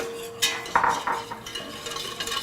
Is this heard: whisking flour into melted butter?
yes